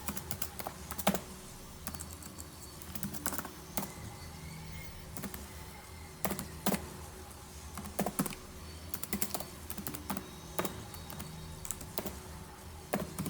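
Rapid, uneven clicking of computer keyboard keys as C code is typed in a terminal under Kali Linux on WSL2, close and steady with short pauses and occasional harder keystrokes.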